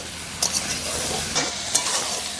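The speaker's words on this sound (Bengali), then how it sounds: "এখানে কিন্তু সবজি ভাজতে ভাজতে অনেকটাই কিন্তু ভাজা হয়ে গেছে" Vegetables sizzle and fry steadily in a pan for a small-fish chachchari, with a few scraping stir strokes of a spatula cutting through the constant hiss.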